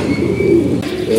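Pigeon cooing up close, a steady low throaty coo running through the whole moment with no talk over it.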